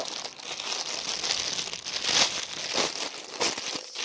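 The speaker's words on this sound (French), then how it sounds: "je vais ouvrir un peu le sachet" Plastic sachet from a diamond painting kit crinkles and crackles up close as it is opened, a steady rustling run with a few sharper crunches along the way.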